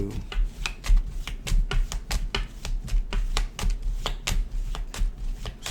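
A tarot deck is riffled and shuffled in quick, rhythmic bursts of sharp card flicks, close and crisp, continuing steadily for several seconds.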